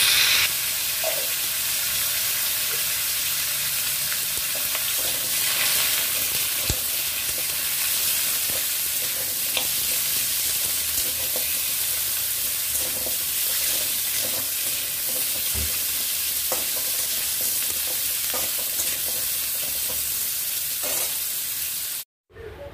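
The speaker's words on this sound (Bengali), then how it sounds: "প্রথমে দিয়ে দিচ্ছি কুমড়োটা তেলের মধ্যে একটু নাড়াচাড়া করে নেব।" Pumpkin frying in oil in a pan, a steady continuous sizzle with scattered soft clicks of stirring, close and even throughout before cutting off abruptly at the end.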